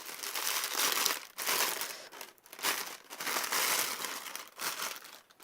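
Loud, close crumpling of packing paper from a Canon EOS 700D camera box comes in several rustling waves separated by brief pauses, with no voices.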